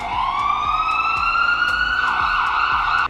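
An ambulance siren wails loud and close, a continuous rising and falling tone that holds steady for the whole few seconds with no voices.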